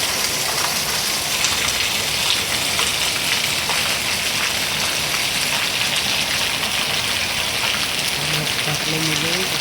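A steady downpour of heavy rain hisses loudly and evenly nearby, with a faint voice surfacing briefly near the end.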